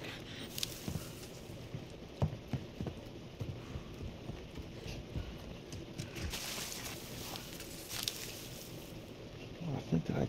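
Rapid, loud footsteps patter continuously in the Call of Duty Modern Warfare II multiplayer match on the Lighthouse map, a steady run of close steps with faint talk underneath.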